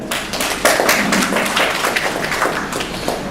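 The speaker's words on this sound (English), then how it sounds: "we need to give a round of applause to Professor Shamim Al-Ashkar" An audience at a bioethics workshop opening gives a sustained round of applause for a professor, steady and fairly loud clapping from many hands throughout.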